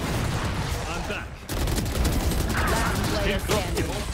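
Rapid gunfire from the tactical shooter Valorant, in a ranked match on the Sunset map, rattles loudly in dense bursts with a short lull midway, close and continuous.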